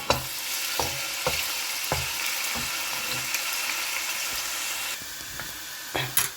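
Chopped onion frying in hot oil hisses and sizzles continuously up close, punctuated by regular stirring knocks against the pot.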